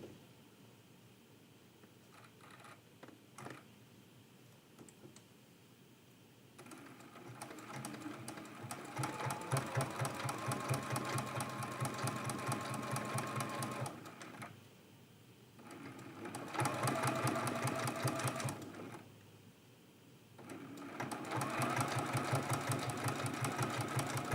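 A sewing machine stitches a quilt-as-you-go quilt block in several fast bursts of steady whirring, separated by short pauses, heard close and alone.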